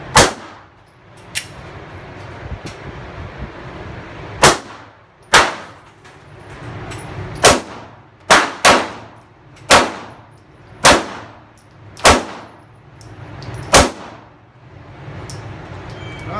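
A Glock pistol fires a series of about ten sharp shots, each followed by the bright ringing clang of a steel target, spaced irregularly at roughly one- to two-second intervals at an outdoor range.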